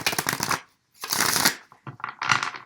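Tarot cards being shuffled by hand in three quick riffling bursts, close and crisp, with short pauses between and no talk.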